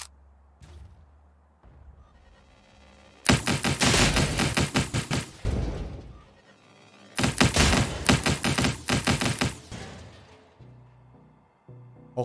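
Two long bursts of rapid automatic gunfire in the VR game The Tower 2, loud and close, separated by a quieter stretch of low rumbling background.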